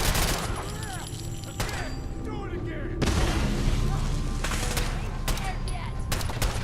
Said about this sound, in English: Plasma grenade out!